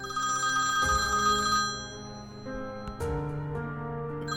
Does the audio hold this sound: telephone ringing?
yes